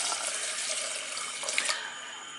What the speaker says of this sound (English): and then pouring some water.